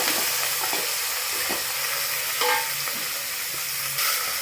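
Fenugreek leaves fry in hot oil in a pan for methi pulao: a constant close sizzle with a few sharp scrapes and knocks of a spatula stirring, and no one talking.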